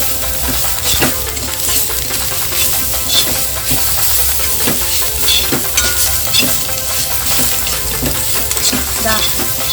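Loud, steady sizzling of clam meat frying in a pan, with scattered clicks and scrapes of stirring throughout.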